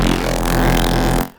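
Squishy, metallic FL Studio bass synth fed through a delay bank, a short loud buzzy burst with resonant ringing that cuts off after about a second.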